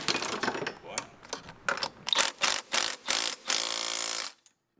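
A socket wrench works in a cramped engine bay during a Mazda Miata turbo install, giving a series of close, sharp ratcheting bursts in uneven rhythm that end in a longer continuous run of clicks.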